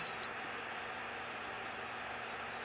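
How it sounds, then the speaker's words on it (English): A continuity meter beeps during Z axis calibration of an Ultimaker 3D printer, giving a thin, steady high-pitched tone throughout that is briefly louder at the very start. "the click of the switch and the beep of the continuity meter at the same"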